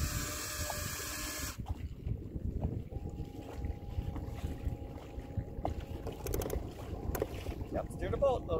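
Small fishing boat moving across open water, a steady low motor drone with wind buffeting the microphone, faint tonal hum and light rattles throughout, no talk.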